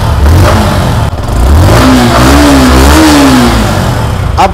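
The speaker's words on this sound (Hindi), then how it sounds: "बाइक को थोड़ा सा हम स्टार्ट करके देखते हैं। देखिए साउंड सुनिए साउंड।" A 2024 Yamaha R15 motorcycle engine starts, then revs up and down loudly and close by, with rising and falling pitch over a rumbling idle.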